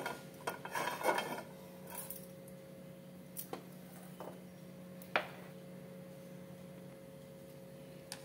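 A metal pan clanks down onto a lit gas stove with a brief rattle, followed by a few light metallic taps over a steady low hum.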